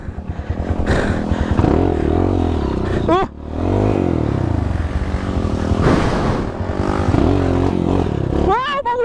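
A Honda CRF 230 motorcycle engine drones and revs loudly while climbing a dirt trail, with sharp throttle surges and rattling, under a rider's breathless talk.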